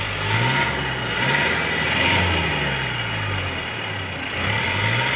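A car engine, apparently with manual transmission, revs repeatedly in loud rising and falling waves. It is heard up close and steady.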